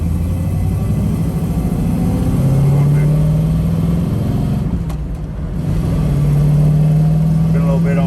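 A 1968 Chevrolet Camaro engine pulls in second gear, its droning tone climbing in pitch, easing briefly, then rising again in a loud, close, steady run.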